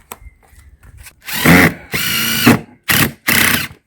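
A power drill drives screws to bolt a kerbside food caddy, sounding in four loud whirring bursts after a few quiet handling clicks, close by and with no talk.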